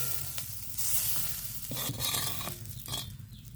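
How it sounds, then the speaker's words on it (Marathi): Chillies frying and being stirred in a pan, a steady close sizzle broken by scraping stirs and spoon strokes against the metal; no talking. "जरा खरपूस भाजायचं म्हणजे ह्याचा तिखटपणा पण कमी येतो"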